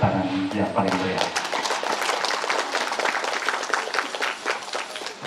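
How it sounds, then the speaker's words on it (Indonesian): An audience at a yudisium graduation ceremony for a health sciences college claps for about five seconds. The applause is steady and crackling, with a brief trailing voice at the start. "Berikan tepuk tangan yang paling meriah."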